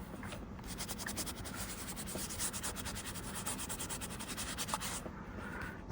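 Dry baby wipe rubbed over wet paint on a textured painting surface, a soft, continuous scrubbing rasp in quick back-and-forth strokes, close and quiet, with no voices.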